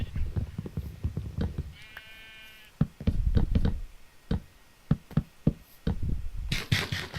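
A lamb bleats once in the Minecraft Tekkit modpack, a short, wavering digital call. Sharp clicks and blocky footstep knocks from the game come before and after it.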